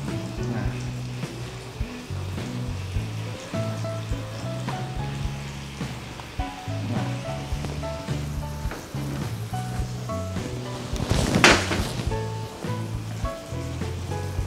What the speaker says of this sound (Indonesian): Yes, kita goreng lagi, pelan-pelan.